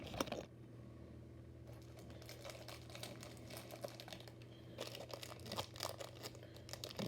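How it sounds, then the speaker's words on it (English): Diecast motorcycle models slide out of plastic bags, producing faint crinkling and rustling with scattered crisp crackles, close by and steady throughout. "me taking them out of the plastic bags"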